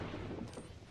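Bangalore's airstrike in Apex Legends lands as a dense rumbling barrage of overlapping blasts, a low continuous roll of explosions without distinct gaps, moderately loud and somewhat distant.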